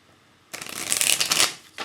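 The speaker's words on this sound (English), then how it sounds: "this is going to be the last of the shuffling now." A deck of tarot cards is shuffled close up, starting after a short quiet moment and building into a dense, rapid riffling flutter that eases off near the end, with no talking.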